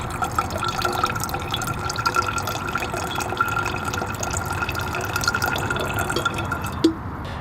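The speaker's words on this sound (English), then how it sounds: "Drips down right into the container." Water from a purification system dripping into a container, a steady fast patter of close drips over a constant low background hiss, with one louder knock near the end.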